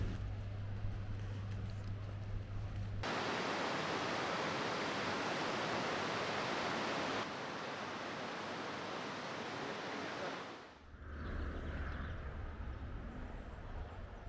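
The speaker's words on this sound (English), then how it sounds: "we're going to check out Ezaro Waterfall, which is literally 300 metres from where we parked the van" Rushing water at Ezaro Waterfall, where a river drops straight over a waterfall, roars as a loud broadband wash after an opening stretch of engine hum, then dips briefly and continues more softly.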